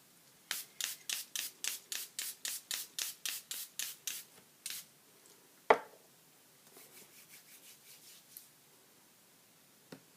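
Rhythmic rubbing strokes of a cloth wiping a Ranger non-stick craft mat clean, about a dozen quick even swipes close by, then a sharp knock and a few softer scattered rubs.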